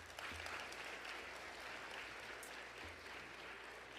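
Steady applause from an audience at a school awards ceremony, a dense wash of clapping that fills the whole moment at even loudness without a break.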